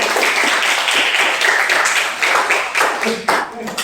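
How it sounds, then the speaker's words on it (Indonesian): A classroom of students claps for a classmate, a short, uneven patter of applause that thins toward the end. "Tepuk tangan dong ya."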